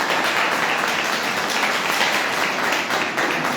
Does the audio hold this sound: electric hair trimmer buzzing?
no